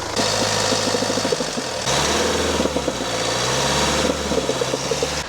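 A Kia Carnival minivan engine runs steadily close by with an uneven, rhythmic knocking or clattering, like hoofbeats, that repeats in bursts as it revs under acceleration.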